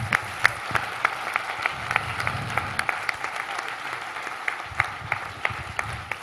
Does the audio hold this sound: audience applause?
yes